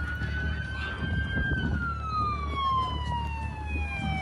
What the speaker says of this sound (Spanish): El sonido de las sirenas paralizó el tránsito en una carrera contra el tiempo.